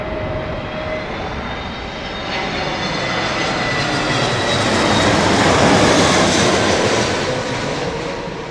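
An Aer Lingus airliner arrives on runway 27 right at London Heathrow: a loud, continuous jet roar swells toward a peak late in the pass, then eases slightly, with no talking.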